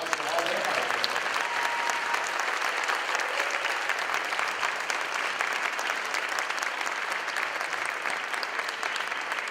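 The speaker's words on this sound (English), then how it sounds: "could you give maybe them one more big round of applause?" A big round of applause from the audience at a beginning band winter concert, steady dense clapping sustained evenly for the full length, with a faint voice early on.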